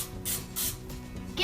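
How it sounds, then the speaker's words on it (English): Cooking spray hissing onto a cake baking pan in a home kitchen, two short bursts of aerosol spray close up with a fainter third at the end. "Spray whatever you're baking your cake in."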